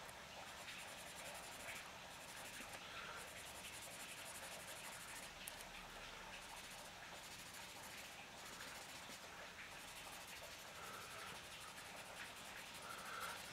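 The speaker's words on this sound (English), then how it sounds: "I'm just going to blend it into the face." A paper blender rubs graphite shading on drawing paper, giving a faint, close, continuous soft scratching and hissing texture with slight strokes and no voices.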